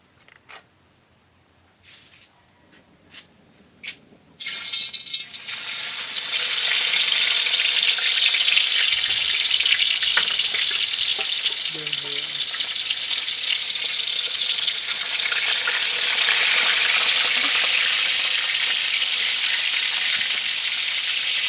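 Lapu-lapu and mangagat fish frying in hot oil in a wok over a wood fire: a few soft knocks, then a sudden loud, steady sizzle that continues close and unbroken.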